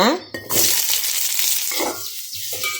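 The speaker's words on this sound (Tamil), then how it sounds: "பாருங்க, ஆயில் ஊற்றியாச்சுங்க. இப்போ நம்ம ஆனியன் ஆட் பண்ணிக்கலாங்க." Sliced onions hit hot oil in a pan while cooking tomato sambar, producing a loud, steady hissing sizzle with a few clinks from the pan, continuous throughout with no talk.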